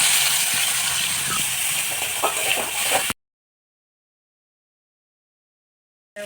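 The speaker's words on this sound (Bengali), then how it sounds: "তো এই তেলের মধ্যে চিংড়ি মাছটা ভেজে নেব" Spice-coated prawns frying in oil left over from frying young jackfruit make a steady, fairly loud sizzling hiss with a few light clicks, then cut off abruptly into silence.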